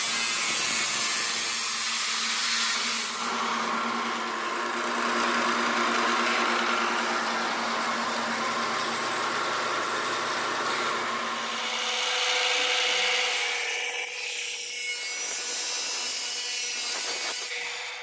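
A saw cuts a metal bar at a 45-degree angle for a tilting gate in a metalworking shop, giving a loud, continuous close-up grinding whine that eases and shifts near the end.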